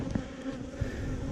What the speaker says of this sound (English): I'm adding a few more bees from here from this hive